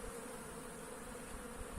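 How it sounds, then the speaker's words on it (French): Steady, dense buzzing of many honey bees at a hive in an apiary, continuous and even throughout, fairly close with no voices. "Ah ouais, les abeilles, ça y va, ça travaille."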